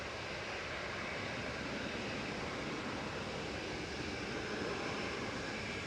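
A Boeing 787 Dreamliner taxis at Manchester Airport, its engines giving a steady, broad roar that holds at an even level throughout, with no voices over it.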